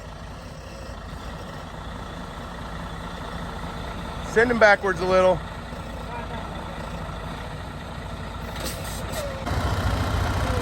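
A semi truck stuck in sand idles and strains with a steady low engine rumble while a Chevy pulls it out, with a brief louder burst of engine and mechanical noise midway and people talking over it.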